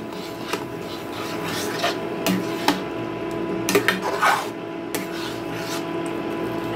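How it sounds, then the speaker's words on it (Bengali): A spoon stirs and scrapes semolina with water in a pan, working it into a dough over low heat: gritty rasping strokes with a few sharper knocks, close and steady, with no talk. "এখন আমি এটাকে এই জলের সাথে ভালো করে মিশিয়ে খুব ভালো করে নাড়িয়ে একটা ডো তৈরি করে নেব।"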